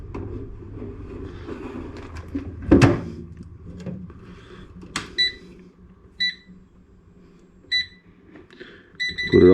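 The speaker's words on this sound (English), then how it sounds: "I'll do the chips in the air fryer." Kitchen handling sounds as an air fryer is loaded with chips and switched on: clunks of the basket and several short electronic beeps from the control panel, close by and fairly quiet.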